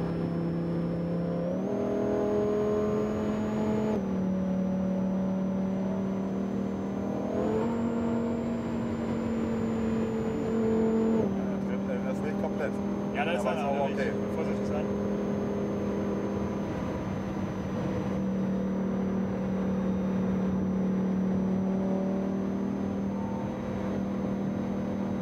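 Lamborghini on the Autobahn accelerating hard, a loud continuous engine whine stepping up through several gear changes over about 25 seconds, with faint road noise and no talk.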